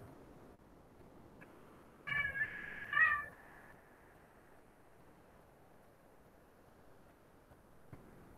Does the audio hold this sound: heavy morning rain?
no